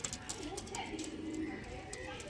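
A large breeding pair of pigeons coos softly in their loft, low throaty calls repeating under faint background chirps and scattered clicks, fairly quiet throughout.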